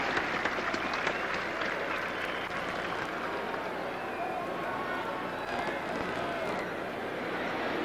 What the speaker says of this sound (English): And now let's send these youngsters to the division competition with a nice round of applause.